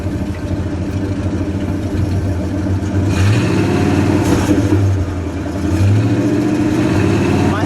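A 1962 Chrysler Newport convertible with a 361 V8 runs loudly and steadily, its deep engine note climbing as the throttle opens partway through and again near the end.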